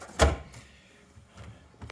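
A drawer of a Husky 52-inch mechanic's tool box slides with one short, loud burst near the start, then faint quieter rustles and a small knock near the end; no one speaks.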